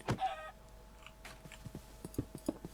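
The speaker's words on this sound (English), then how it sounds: "Go away, chicken." A Minecraft chicken clucks in short, soft clicks and squawks, scattered across a quiet background with small game sounds between the calls.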